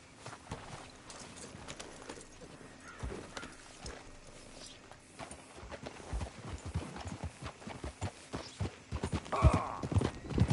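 Horse hooves clip-clop at a steady walking pace during riding in Red Dead Redemption 2, close and rhythmic, growing louder and busier toward the end, with occasional faint voices in the background.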